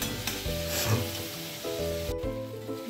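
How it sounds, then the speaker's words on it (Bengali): Potatoes sizzle and are stirred in hot oil in a pan while being sautéed for a bottle gourd kofta curry, a steady close frying hiss with scraping stir strokes throughout, over faint background music and with no talking. "আলুটা এখন আমি এর মধ্যে দিয়ে দেবো। দিয়ে এই কষাচ্ছি।"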